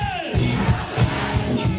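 A concert crowd at a show cheers, whoops and yells loudly in a dense, close wash of voices.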